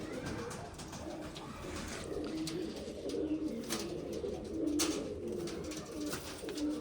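Pigeons of a hobbyist's flock coo in low repeated phrases, partly buried in steady broadband background noise with a few sharp clicks, no talking.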